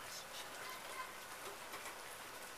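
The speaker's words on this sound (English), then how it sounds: "But yeah, it's raining." Steady rain falls in a continuous, even hiss that stays moderately faint throughout, with no voices over it.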